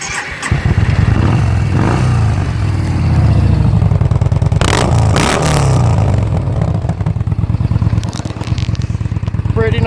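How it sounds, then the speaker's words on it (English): A 2015 Yamaha Bolt with its factory exhaust cranks and fires up, then settles into a loud, close, throbbing idle rumble with a couple of revs and a mechanical clatter partway through. "Pretty nice rumble from a factory exhaust, I gotta say."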